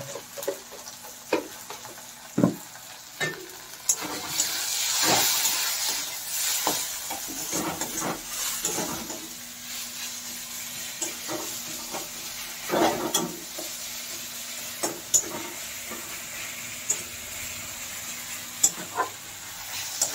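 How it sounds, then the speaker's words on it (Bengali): Ground spices with cumin powder frying in a pan as the base for a rohu fish curry with ridge gourd and potatoes: low steady sizzle and hiss broken by intermittent scraping stir strokes and clinks, close by. "ভালো করে এটাকে কষিয়ে নেব"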